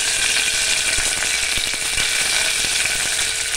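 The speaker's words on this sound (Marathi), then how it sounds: "हे बघा आता कांदा चांगला असा लाल परतून घ्यायचा फोडणीचा." Chopped onion frying in hot oil for a Malvani-style red chickpea amti tempering, a loud continuous sizzle close by with faint scraping ticks from stirring and no voices.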